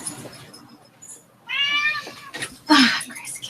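A kitten or cat gives two clear meows close by, the first drawn-out and tonal, the second shorter and louder, with faint rustling between them.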